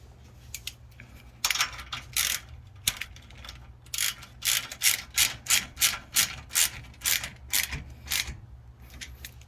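Metal bolt cranked with a ratchet wrench while fixing a rear brake cover bracket on an S2000 or TL, a steady run of crisp, close clicking bursts.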